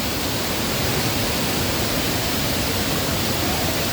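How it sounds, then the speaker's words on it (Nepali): The Sundarijal waterfall in Nepal rushing as a loud, steady, broadband roar with no break and no voices. "यहाँ माथिबाट पुरै कति ठुलो झरना"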